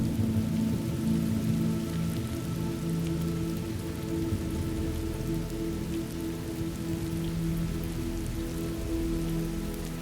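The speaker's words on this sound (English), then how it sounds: "the sound of the rain and thunder" Rain falls steadily on surfaces in a thunderstorm ambience, a dense even patter over a low rumbling undertone of distant thunder, continuous and unbroken with no speech.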